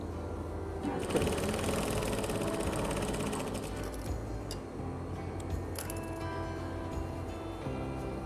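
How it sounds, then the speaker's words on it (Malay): A sewing machine stitches fabric for a layered skirt back panel, running in a steady, loud mechanical whir with a brief pause partway through and no talking. "So kita jahit je."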